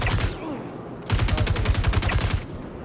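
Rapid automatic gunfire in the video game Star Citizen, fired in two loud bursts with a brief pause between them, the first burst short and the second sustained for over a second.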